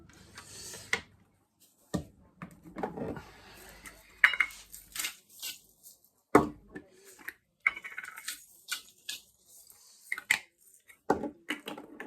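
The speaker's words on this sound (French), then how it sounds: "Je mélange mes oignons" Chopped onions are mixed in a bowl for Lebanese tabbouleh with a spoon or fork, giving scattered clinks and scrapes that come in short bursts with quiet gaps between them.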